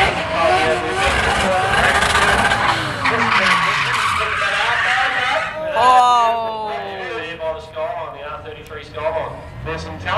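Race cars drifting at Adelaide International Raceway, with long tire squeals and engine revs sliding up and down, heard loud and fairly close under excited commentary.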